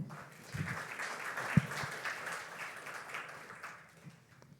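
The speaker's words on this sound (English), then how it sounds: "Let's give her a round of applause." An audience claps steadily for several seconds after a presentation on conversational AI for pharmaceutical patient and HCP engagement, a full, even round of applause with no speech.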